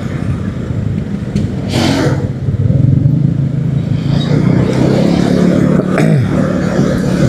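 A Honda ADV 150 scooter rides through congested Sunday traffic in Cinere, its engine a steady close drone mixed with passing vehicles and road noise, with occasional brief revs.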